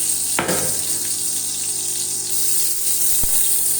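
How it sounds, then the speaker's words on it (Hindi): Ghee poured into a hot karahi for a beef keema, starting with a short splashy burst and settling into a steady, fairly loud hiss with a sharp tap near the end. "कढ़ाई के अंदर घी डालें।"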